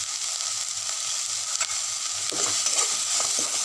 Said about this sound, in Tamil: உப்பு சேர்த்துட்டு ஒரு ஒரு நிமிஷம் அளவு நீங்கள் வதக்கிட்டால் போதும்